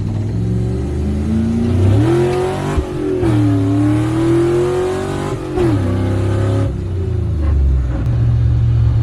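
An LS-swapped nitrous drag car with skinny front tires cruises Phoenix streets, its loud, close engine droning steadily with rising and falling revs and brief shifts, no talk.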